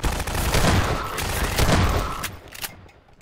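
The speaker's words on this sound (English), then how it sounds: "I can shoot their grenades away" Gunfire in Half-Life 2 shooting away enemy grenades, a close barrage of rapid shots for about two seconds that thins into a few scattered cracks and fades out.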